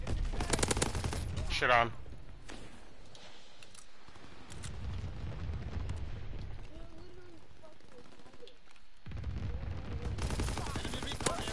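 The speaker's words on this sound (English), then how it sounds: "Anti-aircraft fire." Anti-aircraft fire in a Call of Duty game, a dense rattling fusillade of gunfire with bursts loud at the start and again near the end, a quieter stretch between, and a voice speaking briefly over it.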